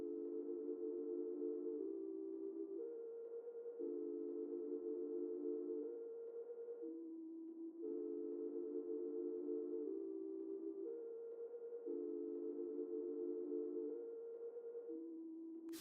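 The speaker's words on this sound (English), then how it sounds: "I have this Interstellar pad right here out of my Legacy multi-kit" A warm Interstellar synth pad from a Legacy multi-kit in FL Studio plays a slow sustained melody of stepped chords, each lasting a couple of seconds, steady and alone with no voices.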